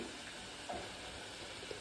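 Food fries quietly in a pan with oil in a home kitchen, giving a soft, steady crackling sizzle with a faint pop or two, heard alone at low level.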